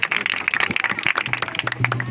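A congregation at a church sermon claps in quick, uneven bursts, moderately loud and close, with a voice speaking over the applause toward the end.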